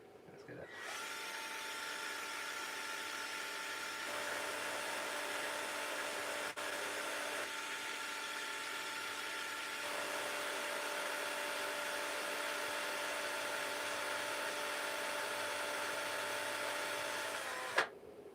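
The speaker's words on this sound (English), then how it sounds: "Am I trying to drill into the spinner here?" Power drill boring into a small spinner in a home workshop, a steady high whine held for about seventeen seconds with a slight pitch shift partway, ending in a click as it stops.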